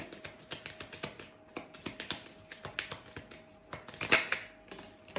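A deck of playing cards being riffled and cards dealt or drawn, a quick run of sharp, papery clicks and flicks repeating through the moment, close and fairly loud with a busier flurry near the end.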